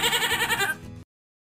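A goat gives a single loud, close, wavering bleat lasting about a second and cutting off abruptly into silence.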